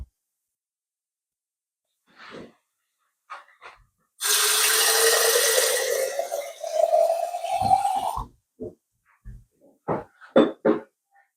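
Water poured into a cup while making apple and lemon tea, a steady splash lasting about four seconds whose pitch rises as the cup fills, with short scattered kitchen sounds before and after.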